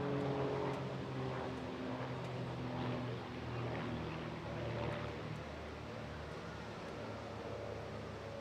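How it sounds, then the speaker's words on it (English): Van's RV series light propeller aircraft flying a display at the Bournemouth Air Festival, a steady droning engine hum holding at moderate distance throughout, fairly even and continuous without talk. "These aircraft, basically Van's RV series of aircraft"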